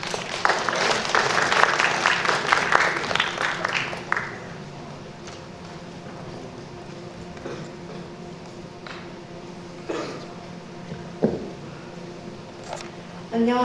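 Audience applause at a school natural-science research presentation event, a burst of clapping for the first four seconds that quickly fades into a quieter room with scattered thumps and small noises.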